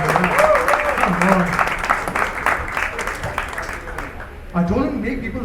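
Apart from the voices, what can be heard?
audience applause for the MC at stand-up comedy show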